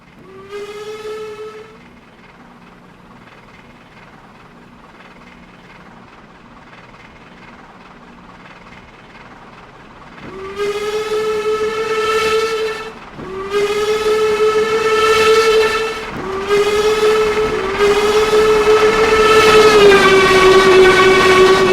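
A steam locomotive hauling a heavy train sounds its whistle repeatedly: one short blast, a long quiet stretch, then a run of loud, sustained, tonal blasts over rumbling rail noise, close and powerful.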